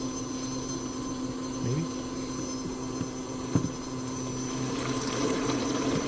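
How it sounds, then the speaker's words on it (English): An inexpensive fuel injector cleaning machine on a 12-volt power supply pumps cleaning fluid through the injectors, a steady electrical hum with faint liquid gurgles and a few small clicks, continuous throughout. "That just pumps it in here, and you can feel the excess is getting pumped right out."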